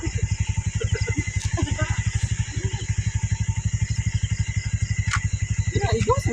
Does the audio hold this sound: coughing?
no